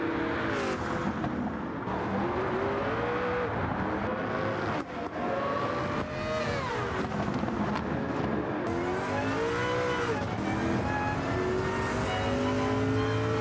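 A Sauber Mercedes C11 race car in Gran Turismo 7 roars out of the pits at the Red Bull Ring, its engine screaming through repeated rising revs and sharp gear changes, loud and close, with no talk.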